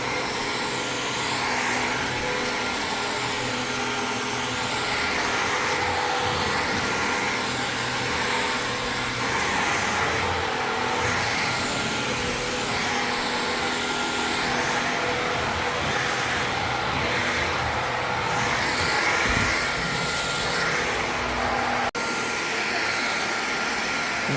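Karcher VCN 5 cordless vacuum cleaner running at full power, a loud, steady whining motor roar that continues unbroken throughout at close range.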